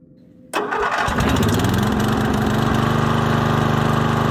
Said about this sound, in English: starting a lawnmower